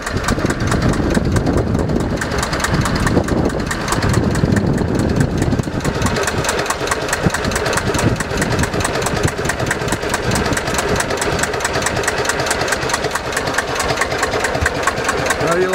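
A small Sabb 10hp boat engine runs steadily at idle for the whole stretch, a rough chugging drone that stays loud and close, a little busier in the first few seconds.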